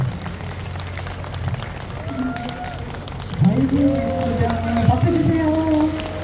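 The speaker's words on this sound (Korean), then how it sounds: "박수 한번 주세요." Audience applause at an outdoor line dance festival, a crowd clapping steadily throughout, growing louder midway, with speech and a voice over the top.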